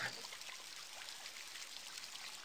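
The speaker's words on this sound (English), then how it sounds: "All you hear is water" Water in Wizard101 running and trickling in a soft, steady hiss, faint and continuous with no other sounds.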